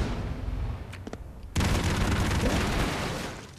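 A grenade goes off in the video game Broforce, a sudden loud blast that breaks over lighter gunfire and then rolls on as a dense, crackling rumble that fades slowly.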